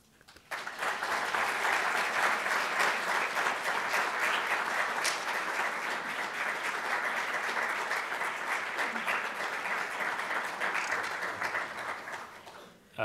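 An audience at an evening talk on Islamophobia and hate crimes gives a speaker long, sustained applause, with dense clapping from many hands that rises quickly and tails off near the end.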